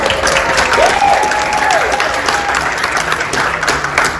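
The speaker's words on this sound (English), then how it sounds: "Let's give her a round of applause real quick" A room of roughly sixty to seventy people gives a quick round of applause, steady loud clapping throughout with a faint whistle rising and falling in the middle.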